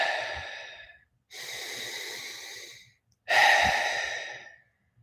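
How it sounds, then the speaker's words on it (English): Deep breathwork breaths, three long audible breaths separated by brief silences, each a breathy rushing exhale or inhale lasting over a second, close and fairly loud. "Focused on the breath, feeling that air coming in to the lungs, feeling that air going out"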